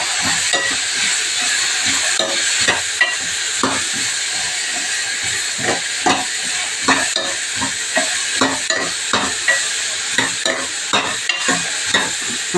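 Food fries in hot oil with a bright, steady sizzle while a utensil stirs and scrapes the pan in regular strokes throughout.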